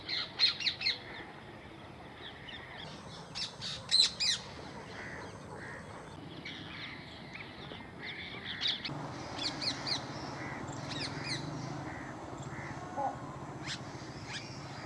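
Crows caw and other birds squawk and chirp around a village pond in Bhilwara district where winter migrants from Siberia gather, with bursts of loud, close calls over a steady outdoor background.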